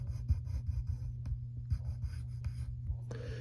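Pencil drawing on paper, a close, quiet run of short scratchy strokes and taps in an uneven rhythm, with no talk.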